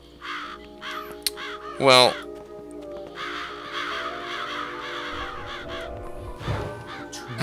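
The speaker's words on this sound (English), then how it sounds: "I'm just gonna set crows on fire." Crows caw repeatedly in the Psychonauts video game, harsh calls recurring over a busy game soundscape, with one loud burst and someone talking briefly.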